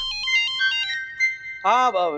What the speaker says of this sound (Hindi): लो टीचर का ही फोन आया।